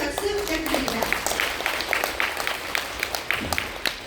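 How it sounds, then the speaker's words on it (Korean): Audience applauding a travel writer being welcomed onto a lecture stage, steady broadband clapping with scattered sharper claps and some crowd murmur mixed in throughout. "큰 박수 부탁드립니다."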